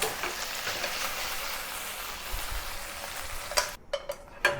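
Beef stir-frying in oil in a pan gives a steady, fairly quiet broadband sizzle, with a few sharp utensil clicks near the end as the meat is moved.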